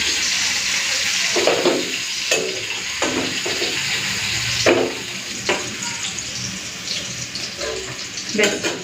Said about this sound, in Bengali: চলো কড়াইটা এরপর ধুয়ে নিই